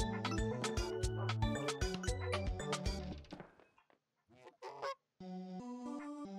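A goose honks repeatedly in the QT horror video game, loud nasal calls over game music that cuts out abruptly, followed by a few quieter honks and a final sustained tone.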